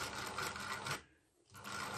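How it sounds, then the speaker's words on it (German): A sewing machine, belt-driven by a motor, runs steadily with a dense mechanical whir, pauses briefly in the middle, then starts up again at the same pace. "Wir sehen hier die Nähmaschine in Funktion."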